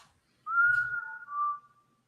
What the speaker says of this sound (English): just heard that whistle too